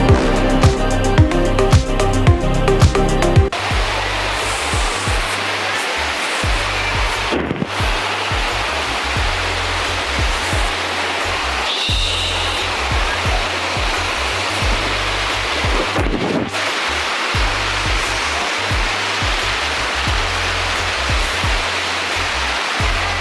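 Steady roaring rush of a waterfall fills the whole stretch, broadband and constant, with brief music at the start and a few faint bumps.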